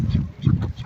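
Domestic ducks quack close by in a farmyard, a few rough, nasal calls in quick uneven bursts, loud and with no talk over them.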